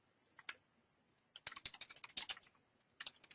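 Typing on a computer keyboard comes in quick bursts of crisp, close key clicks: a lone tap, a pause, a rapid flurry, then another short run, quiet and without talk.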